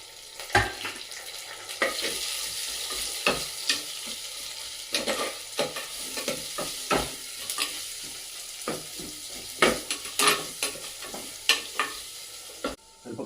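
Onions fry and sizzle in a clay pot for a village-style bitter gourd curry, with repeated scraping stirs of a spoon against the pot over a steady crackle.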